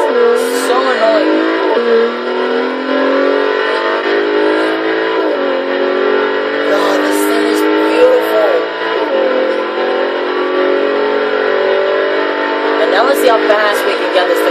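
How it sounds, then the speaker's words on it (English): A 2015 Bentley EXP 10 Speed 8 concept in Forza Horizon 3, its engine revving loudly through repeated gear changes, with a few short, sharp backfire pops, under continuous commentary. "Oh, just backfire."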